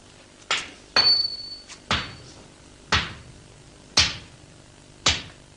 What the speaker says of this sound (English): After the folding, the lump is beaten into its final shape.